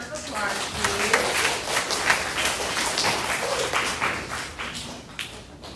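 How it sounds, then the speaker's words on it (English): Audience applause at a spelling bee competition, a steady wash of clapping lasting several seconds that fades toward the end, with a voice speaking over it. "Give them a round of applause, please."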